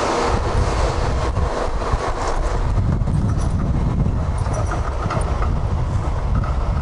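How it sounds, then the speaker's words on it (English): A Melbourne tram runs through an empty city street during the March 2020 coronavirus lockdown, giving a loud, steady rumble of wheels on rail with faint clatter throughout and no talk. "the trams are running, which is a good thing"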